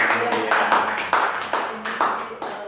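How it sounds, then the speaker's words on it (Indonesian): Applause from an audience at a children's reading day event in Bekasi: a short run of dense, steady clapping with a few surges in loudness. "Boleh tepuk tangan dulu."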